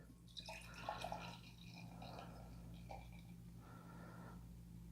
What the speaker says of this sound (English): let's give this a pour and see what we got going on.